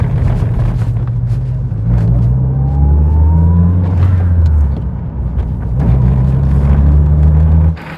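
A classic Toyota MR2 sports car with stiff suspension rolls over train tracks, a loud, close engine rumble with shifting drone, and several dull thumps and rattles as the wheels cross the rails.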